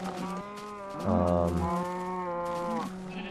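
Minecraft cows in a farm pen give several deep, drawn-out moos that overlap one another, fairly close and steady, with no voices.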